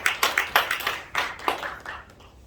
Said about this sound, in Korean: 다 같이 박수로 영광 돌립니다.